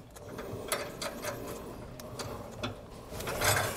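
A 13 mm wrench tightens flange nuts on a B and W Turnoverball gooseneck trailer hitch under a 2022 Ford, giving a series of sharp metallic ratcheting clicks at an uneven pace, close by.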